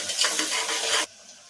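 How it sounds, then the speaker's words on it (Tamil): Onions sizzle and crackle in a hot pan, stirred steadily for about a second before the frying noise abruptly cuts off. "வெங்காயத்தை நல்லா பொன்னிறமாக வர வரைக்கும் வதக்கி விட்டுக்கலாம்"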